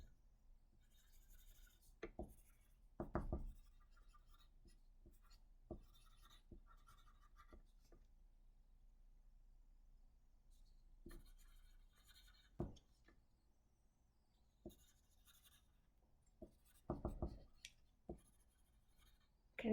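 Faint, intermittent scratching of handwriting on paper, with short strokes in scattered bursts and long quiet gaps between them.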